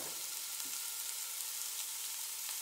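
Onion sizzles in hot oil in a pot, a steady, bright hiss of frying with no break, heard alone at moderate level.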